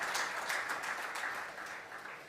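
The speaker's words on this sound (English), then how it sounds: "Let's send Mithali Raj, who is leading India's charge at the Women's World Cup, a loud cheer" An awards-ceremony audience applauds for cricketer Mithali Raj with a dense, steady wash of clapping that fades slightly toward the end, heard alone without talk.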